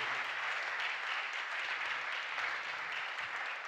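A church congregation applauds and cheers together in praise, a dense, continuous wash of clapping that holds at an even level throughout.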